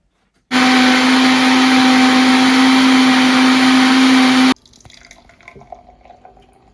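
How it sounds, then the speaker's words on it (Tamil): An electric juicer runs on fruit for about four seconds with a loud, close, steady motor hum, then cuts off, leaving faint clinks and rattles. "பாதிப்பழம் தான் ஜூஸ் அடிக்கிறான்"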